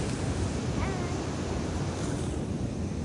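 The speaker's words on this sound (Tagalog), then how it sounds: "Kahit ang taas ng alon" Strong sea waves crash on the shore in a constant, loud, close roar of surf, with no talking.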